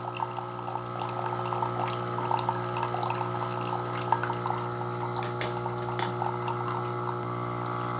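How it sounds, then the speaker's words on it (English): A coffee maker dispenses a steady stream of hot water over a constant mechanical hum, with small gurgles and splashes throughout; no one speaks. "The water coming out does get a little weaker towards the end."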